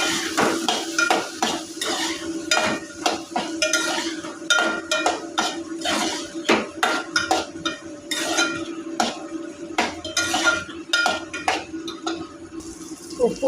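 Small onions, two green chillies and ginger-garlic paste fry in a pan, with a spoon repeatedly scraping and stirring over a soft steady sizzle and a faint voice in the background.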